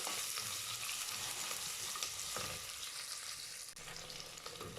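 Steady sizzling and crackling of onions and curry leaves frying in hot oil, close and continuous, with some stirring scrapes.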